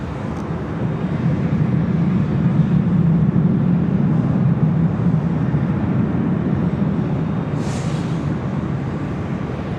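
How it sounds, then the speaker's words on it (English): A United 787-10 Dreamliner arriving from Newark lands on runway 24 left at LAX, heard as a steady, distant broadband jet roar holding at an even level for several seconds with no voices. "we're going to have that United Heavy 787-10 Dreamliner coming in from Newark"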